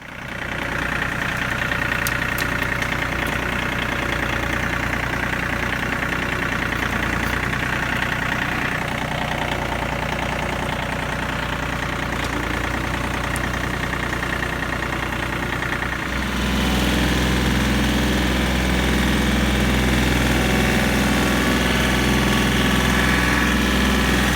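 A tractor engine idles steadily at a wooded property, a loud continuous diesel drone with low throb and slight knock, shifting to a deeper, heavier tone partway through; no voices.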